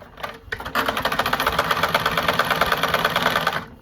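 A sewing machine starts after a brief pause and rattles through cloth in a fast, even run of stitches, loud and close, continuing steadily for several seconds before stopping.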